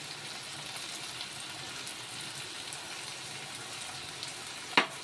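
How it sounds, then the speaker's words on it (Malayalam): Brinjal fries in a pan as turmeric is stirred in for a brinjal egg dish, giving a soft, steady sizzle with a single sharp clink of a utensil near the end and no speech. "മഞ്ഞൾപ്പൊടി ഇട്ടതിന് ശേഷം ഇത് നല്ലോണം ഒന്നുകൂടി ആ പച്ചമണം മാറുന്നവരെ നല്ലോണം നമുക്കൊന്ന് ഇളക്കി കൊടുക്കാം"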